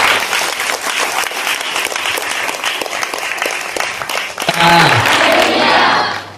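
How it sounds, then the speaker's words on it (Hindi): A church congregation breaks into loud, sustained clapping, a dense crowd applause that swells toward the end before tapering off. "ताली बजा दीजिए"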